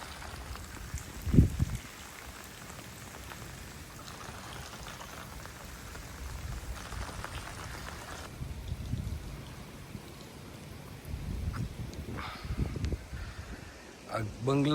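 Heavy rain at Nagoa, Diu pours steadily onto flooded ground and surfaces, with splashes and patters while people talk over it.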